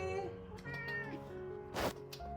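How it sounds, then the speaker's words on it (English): A house cat meows several times in a row, close and clear, with short tonal calls and a brief breathy burst near the end; no talking. "Oh, the cat says hi."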